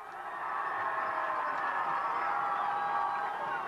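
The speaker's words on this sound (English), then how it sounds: "the reason you hear all the cheering is we are sitting over here on the John Burroughs side" A crowd cheers in the stands at a 1989 high school football game between John Burroughs and Warsaw, a sustained roar of voices and whoops heard from a distance at moderate volume.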